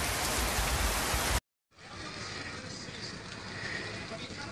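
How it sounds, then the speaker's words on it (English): Heavy rain from Hurricane Nate falls in a steady, dense hiss, briefly cut off by a short silent gap before the downpour resumes at a slightly lower level. "Right now it's just a lot of rain."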